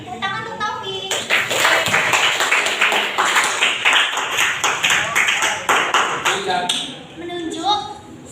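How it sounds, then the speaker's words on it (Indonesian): Students in a biology classroom clapping for a classmate after his group presentation, a steady burst of many handclaps lasting several seconds between stretches of a teacher's talk. "Tepuk tangan untuk Taufik."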